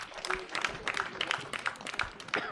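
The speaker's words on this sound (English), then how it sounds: "I believe you guys really deserve an applause" A student audience at a town-hall meeting with a mayor claps in scattered, uneven bursts, fairly faint and distant, with a murmur of voices underneath.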